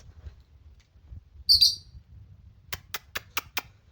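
Pet parrot singing indoors, a loud bright whistled call followed by a quick run of five sharp chirps over a faint low background murmur.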